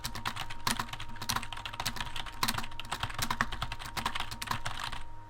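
Rapid, steady typing on a computer keyboard, with dense clicking keystrokes close to the microphone and no talking.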